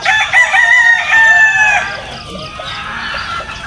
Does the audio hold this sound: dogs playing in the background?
no